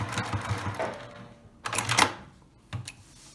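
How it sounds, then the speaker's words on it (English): A sewing machine stitching the lining of a tote bag, a rapid mechanical clatter in short runs with a pause between them, ending in a brief final burst as the seam is back-stitched. "we finished stitching both of the lining pieces."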